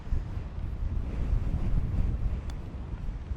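Strong, steady wind buffets the microphone on a high desert golf course in Central Washington, a loud continuous low roar and rumble with no talk.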